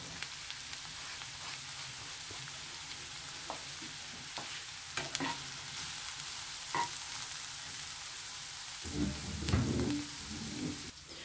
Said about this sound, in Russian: И отправляю обжариваться к нашему луку.